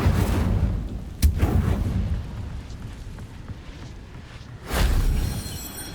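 An Incendio fire spell is cast in the Hogwarts Legacy video game, with two heavy, booming blasts of flame over a loud, rumbling roar. The bursts land several seconds apart.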